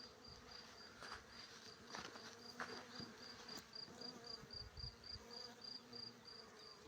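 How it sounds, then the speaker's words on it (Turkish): Honey bees buzzing around lavender flowers as they gather nectar and pollen, a soft steady insect hum outdoors with faint bursts of wingbeats passing close, a high thin whine running through. "Görmüş olduğunuz arılar lavanta çiçeklerinden"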